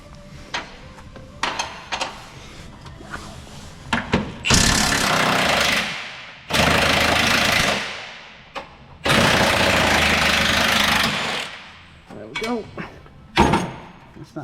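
Impact gun hammering at a suspension bolt on a 2016 Nissan Qashqai front lower arm, three long loud rattling bursts of several seconds each, separated by quieter clanks and handling noises.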